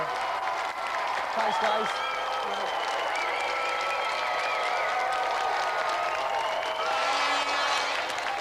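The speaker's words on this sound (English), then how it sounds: "So let's have another round of applause" Studio audience applause on a 1993 television games show, a steady wash of clapping and cheering running the whole length with a host speaking briefly over it.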